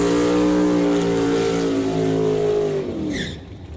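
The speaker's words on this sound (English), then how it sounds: "Nice couple of burnouts by these stretched out Camaros" Stretched Camaro drag cars doing burnouts at a drag race, a loud sustained engine howl with strong harmonics that sags in pitch and cuts off near the end.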